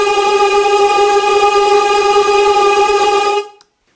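Cello pitched upward and run through a grain synthesizer in Max, giving a loud, steady buzzy tone with strong even harmonics, sustained for about three seconds before cutting off abruptly, with no voices.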